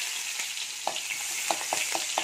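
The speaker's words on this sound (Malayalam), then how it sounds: "വെളിച്ചെണ്ണ തിളച്ച് വന്നിട്ട് നമുക്കിതിനകത്ത് അരിഞ്ഞു വെച്ച ഇഞ്ചിയും വെളുത്തുള്ളിയും ചേർത്ത് കൊടുക്കാം." Chopped ginger and garlic sizzle in hot coconut oil, a soft continuous frying hiss broken by a few small pops and stirring clicks, alone with no talk.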